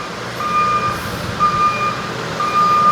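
A construction vehicle at a road-work site sounds its reversing alarm in repeated, evenly spaced high beeps, loud and close over a low engine rumble.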